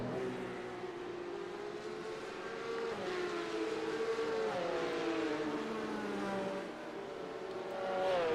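Porsche Cup race cars in a virtual racing game roar continuously, several engines layered with rising and falling revs as the pack battles closely, loud throughout with no talk.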